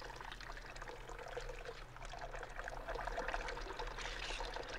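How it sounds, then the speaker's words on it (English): Water is poured into dung slurry in a concrete trough, giving a steady, close splashing and gushing that runs continuously and grows slightly louder toward the end, with no voices. "then water is added to reduce it to a thin slurry"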